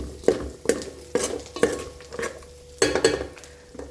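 Jackfruit seed stir-fry being stirred in a pan over a low flame, with a series of distinct scraping, clinking strokes of a spoon against metal at an uneven pace, close by over a faint sizzle.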